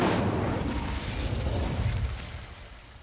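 Incendio fire spell cast in Hogwarts Legacy, a loud whooshing burst of flame that roars broadly and slowly fades over about three seconds, with no talking.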